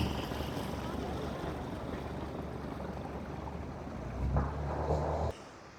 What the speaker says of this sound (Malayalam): ബോട്ട് ഒരു 10-15 പേരുമായിട്ട് പോവുകയാണ്.